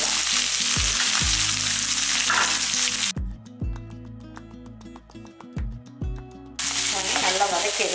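Egg curry base sizzling and frying in a pan with stirring, loud and close, briefly dropping away as music plays underneath before the sizzle returns.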